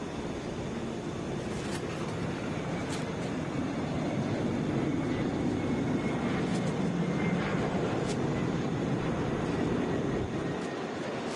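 A Delta Boeing 717 airliner arriving from Charlotte at Atlanta International Airport gives a steady, moderately loud engine rumble that holds evenly throughout, heard alone without talk.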